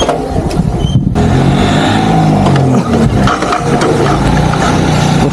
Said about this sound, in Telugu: 20+ స్పీడ్లోకి వెళ్ళి సెకండ్ గేర్లో వేసి క్లచ్ వదిలేయగానే స్టార్ట్ అయిపోయింది